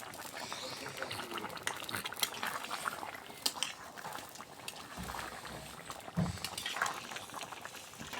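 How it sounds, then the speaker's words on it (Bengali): Fish curry broth with cauliflower, radish and tomato bubbles in a pot, a soft steady boiling and simmering close by with faint clinks of utensils, fairly quiet throughout. "এই যে ঝোলের বলক উঠে গেছে আমাদের।"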